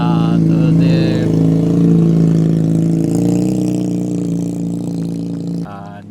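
A Toyota Avanza engine revs steadily under load while climbing uphill, a loud sustained drone throughout with a slight drop near the end; brief voices are heard at the start.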